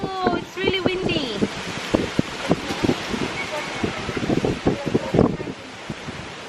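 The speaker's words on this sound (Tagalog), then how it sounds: "Whoa, it's really windy." Strong outdoor wind buffets the microphone with rough, gusty rumbling and crackle, and a voice is heard briefly at the start.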